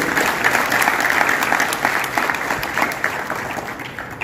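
Audience at an award ceremony applauding, a dense, steady burst of clapping from many hands that holds at an even level throughout.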